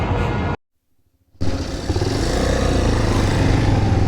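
A motorcycle engine idles and rumbles close by on a solo bike tour near a river with sandy ground; it cuts to near silence briefly, then returns and grows steadily louder, with no speech.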